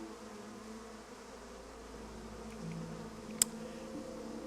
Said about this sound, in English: You were stung to death by bees.